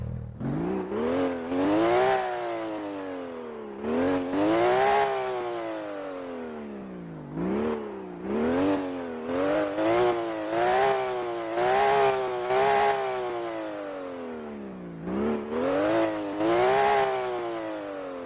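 A JDM car engine revs in the Vehicle Legends video game, several repeated rising and falling throttle sweeps in a regular rhythm, loud and close, with no talking.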